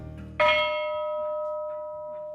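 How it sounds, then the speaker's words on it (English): An original 1840s bell from a machine shop, struck once: a bright, sharp clang followed by a long ringing tone that slowly fades, with a low murmur before the strike. "This is the original bell from one of the machine shops."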